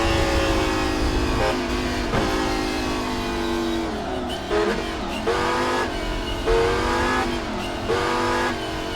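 Race car engine heard from the cockpit in the rFactor 2 racing game, loud and close, the revs climbing and dropping repeatedly as the throttle goes on and off, with gear-change dips and rises.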